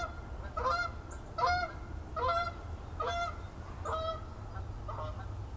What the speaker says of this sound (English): Oh, look, the geese.